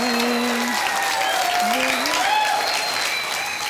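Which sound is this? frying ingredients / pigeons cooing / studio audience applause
studio audience applause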